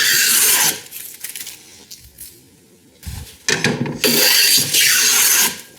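A hand plane takes thin shavings while edge jointing a long wooden board, giving loud, close hissing strokes in several long passes separated by quieter gaps.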